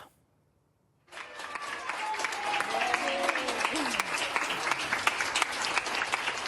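Hospital ICU staff applaud a recovered COVID-19 patient as she leaves the unit, steady sustained clapping starting after a second of near silence, with faint voices and cheers mixed in.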